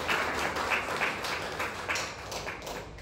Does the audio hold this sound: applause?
yes